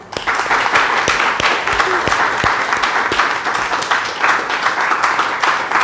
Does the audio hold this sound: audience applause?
yes